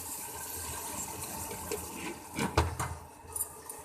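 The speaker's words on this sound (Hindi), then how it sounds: "अब मैं इसमें लगाती हूँ पानी ताकि आलू हमारे गल जाएं।" Water pours into a pan of potatoes and minced keema, giving a soft, steady splashing and sizzling wash with a few louder clattering splashes near the middle.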